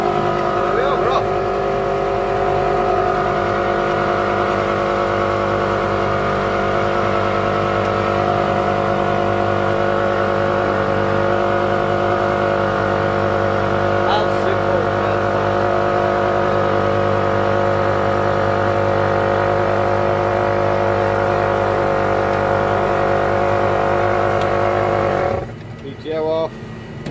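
A Massey tractor engine drives a PTO-powered macerator on a tanker, a loud, steady mechanical drone with a constant pitch that holds for almost the whole stretch before cutting off abruptly near the end.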